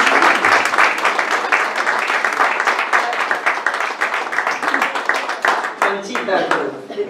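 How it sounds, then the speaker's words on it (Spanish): Audience at a poetry event applauding steadily, a dense close crackle of many hands lasting throughout and thinning slightly toward the end. "pido un aplauso para él"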